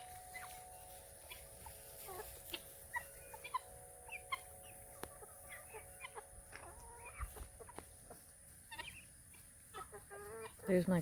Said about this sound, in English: There's my cool looking rooster.